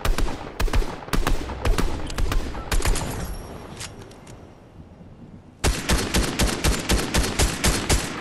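Rapid bursts of gunfire in the video game Fortnite, loud and close, first in scattered volleys, then a lull of distant shots before a dense, steady automatic barrage resumes.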